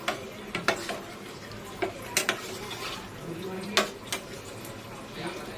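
Hilsa fish pieces are mixed by hand with a yogurt marinade and ground spice paste in a bowl, giving close, soft squelching and stirring with scattered sharp clinks against the dish.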